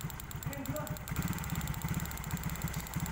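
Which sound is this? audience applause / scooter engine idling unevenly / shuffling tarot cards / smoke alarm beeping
scooter engine idling unevenly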